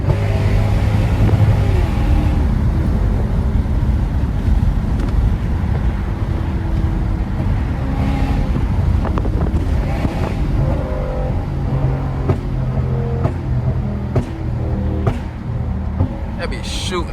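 Lexus GS430 V8 with catalytic converters removed, heard as a steady engine and exhaust rumble from inside the car for about seventeen seconds, with wind noise and someone talking over it.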